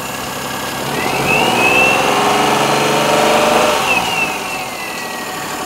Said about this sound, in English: Seems like the whine is just the power steering pump.